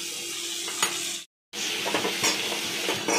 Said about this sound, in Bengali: তাহলে ফুলকপিটা ভেজে নাও